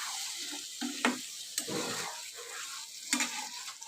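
Potatoes and tomatoes being stirred in a frying pan, with a soft steady sizzle and a few scraping knocks of a spoon against the pan. Quiet and close, with no talk.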